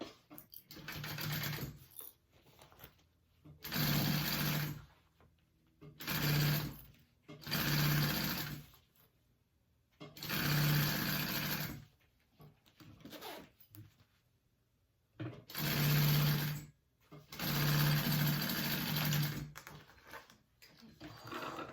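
Sewing machine basting a fabric panel onto the top of a zipper for a tote bag, running in repeated bursts of a second or two, separated by short quiet pauses, close and steady, with no talking.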